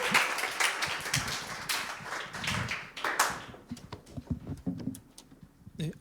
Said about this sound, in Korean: 나오실 때 큰 박수로 맞이해 주시면 감사하겠습니다